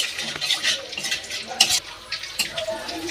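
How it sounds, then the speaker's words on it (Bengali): A spoon stirs whole cumin seeds through oil in a pan, giving soft scraping and light sizzle-like rustles in an uneven rhythm, close and moderately quiet. "এই যে গোটা জিরে দিয়ে দিচ্ছি আমি, এটা ভালো করে আমি নাড়িয়ে নেব।"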